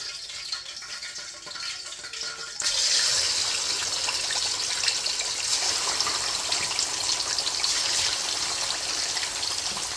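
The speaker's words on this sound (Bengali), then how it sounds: "আমি এখন চিকেনগুলো একে একে তেলে দিয়ে দিচ্ছি।" Chicken pieces go into hot oil one by one over high heat, setting off a sudden loud, steady hiss and crackle that jumps up partway through and holds close and continuous.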